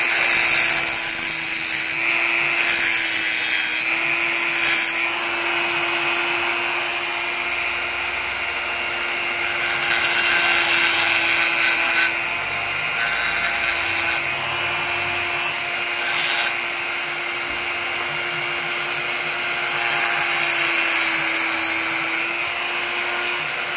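A rotary tool grinds down plastic hot staples during plastic welding repair, a steady high whine with rough rubbing bursts that swell and fade several times over nearly half a minute, close and loud without talk.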